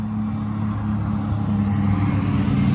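Race cars at the Spa-Francorchamps 24 Hours circuit, a steady loud engine roar with strong low drone running throughout, continuous rather than a single distinct pass.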